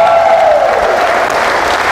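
A church congregation at a Christian fellowship service breaks into loud, dense applause that stays steady and close for a couple of seconds, with a trace of a voice trailing off at the start.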